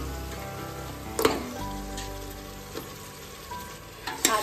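Pieces of trotter sautéed in masala sizzle steadily and softly in the pan, with a few sharp scrapes of a stirring spoon punctuating the continuous frying.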